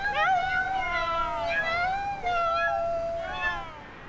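Belarusian anti-government protesters, women in a human chain at a cat flash mob, imitate cat meows with their voices, a sustained chorus of rising and falling wails layered over one another, fairly loud and close.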